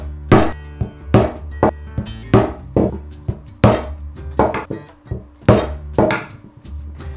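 Sharp, distinct thwacks from a rubber mallet driving a hole punch through a leather strap, about a dozen hits in an irregular rhythm, close and loud, with no talking.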